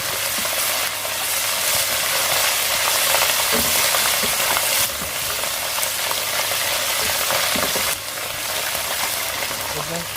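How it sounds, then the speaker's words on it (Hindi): Onions browned to a light golden shade sizzle steadily in a pan as a spoonful of ginger-garlic paste goes in, a dense continuous frying hiss with faint stirring scrapes throughout. "अब हम इसमें डालने लगे लहसुन अदरक का पेस्ट।"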